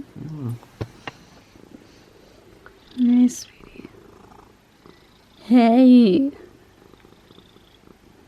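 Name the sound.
cat purring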